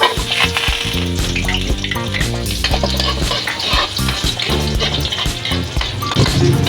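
Garlic sautés in hot oil in a pan, the start of a braised pork hock dish. A continuous close sizzle runs under prominent background music, with no voices.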